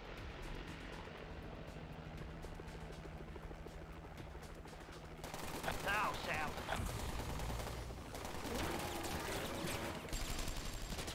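Machine gun fire from a helicopter in the Call of Duty zombies map Mauer Der Toten, a dense rattling burst over a steady rotor and engine drone that grows louder midway, with game speech and music mixed in.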